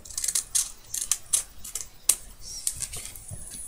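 Scissors cut through card in a quick run of crisp, close snips and clicks, irregular and fairly loud, with no talk.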